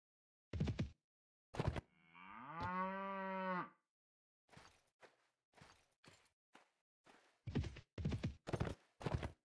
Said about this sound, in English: A lot of cattle.